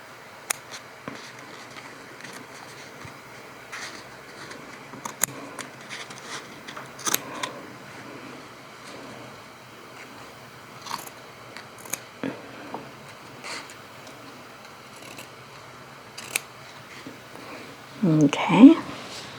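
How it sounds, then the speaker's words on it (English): Quiet scissor snips clipping fabric while draping a bodice back, scattered sharp clicks over a soft background, with a brief louder rustle near the end. "I'll grab my scissors and I'll just do a little clipping here."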